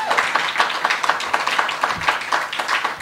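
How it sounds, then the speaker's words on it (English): Audience applause at a union's inaugural conference, a steady wash of many hands clapping at moderate loudness for about three seconds with no voices over it. "Can we give him a round of applause again?"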